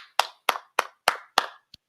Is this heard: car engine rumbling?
no